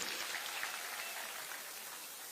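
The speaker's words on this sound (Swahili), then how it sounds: "mpigieni makofi" Crowd applause during an International Women's Day event at Moi Stadium in Embu, a steady, distant wash of clapping with no voices.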